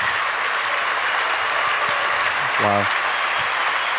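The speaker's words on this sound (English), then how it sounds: "give them a big applause for this beautiful" A hacker camp audience claps in a steady, dense round of applause, with a single voice briefly exclaiming over it near the end.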